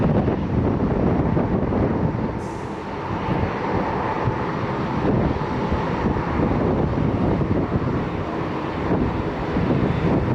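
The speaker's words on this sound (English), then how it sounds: "Got a Delta Airlines A321neo touching down here." A Delta Airlines Airbus A321neo touching down at Fort Lauderdale airport, a steady broad engine roar blended with heavy wind buffeting on the microphone, continuous throughout.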